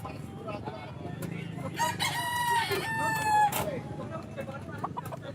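A White Kelso rooster crows loudly nearby in a busy pet market, one long rising and falling call with harmonic layers, set against crowd murmur and other fowl clucking in the background.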